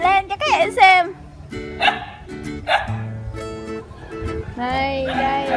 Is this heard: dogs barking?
yes